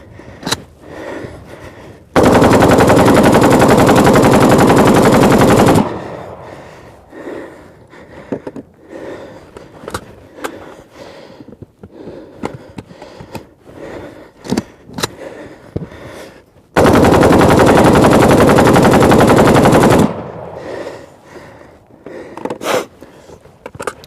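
Two long sustained bursts of automatic machine gun fire, each several seconds of dense continuous roar, separated by quieter sounds of handling and movement nearby.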